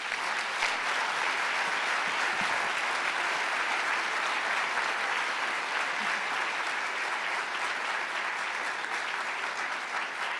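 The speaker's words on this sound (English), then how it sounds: "Please join me in giving a round of applause for this remarkable group of leaders" A large audience claps steadily for a group of women leaders at a White House forum event, dense, sustained applause filling the hall without pause.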